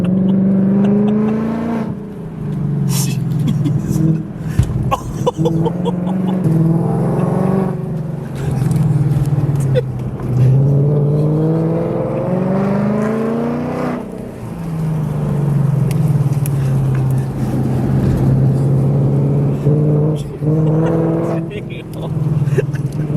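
A Ford Mustang S650 lapping a racetrack, its engine loud and close, rising and falling in long revving pulls with gear changes, while voices talk over it.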